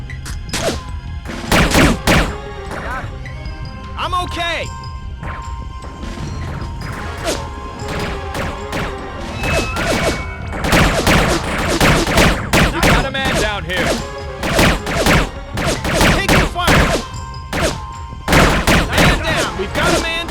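Sharp gunshots and cracking bursts in the video game America's Army: Rise of a Soldier, an urban combat qualification, arrive in irregular clusters, some loud and near, with shouted voices mixed in.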